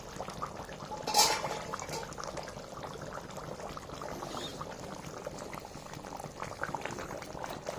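Chicken curry with puffed rice bubbles in a pot, a continuous soft simmer of boiling liquid with one brief louder splashy burst near the start and no talk.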